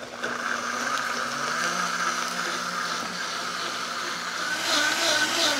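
Blender pureeing garlic, onion and salt into a braising liquid for carnitas, a steady motorized whir that holds even throughout and swells slightly near the end.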